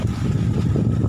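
Loud, low wind buffets the microphone in a continuous roar at a seaside beach, with a rumbling drone like a boat engine underneath.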